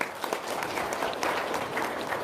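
A seminar audience breaks into applause, a steady wash of many hands clapping together at moderate loudness for a couple of seconds.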